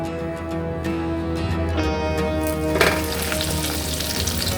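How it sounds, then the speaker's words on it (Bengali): Breadcrumb-coated fish rolls, dipped in egg, deep frying in oil over a low flame for a Durga Puja snack, give an even, close bubbling sizzle that swells slightly midway, alone without voices. "এবারে আমরা ডুবো তেলে একে একে এগুলোকে ভেজে নেব।"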